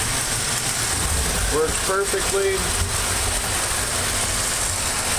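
A Lionel 229 prewar toy train engine, fully rewired and restored, runs with a steady low hum beneath a short spoken comment.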